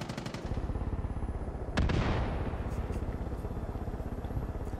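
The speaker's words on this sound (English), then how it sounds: "Just hearing distant explosions is just great." Explosions and gunfire in the open-world shooter game Far Cry 5, a steady rumbling barrage of rapid shots with a heavier blast near the middle, sounding somewhat distant and continuous throughout.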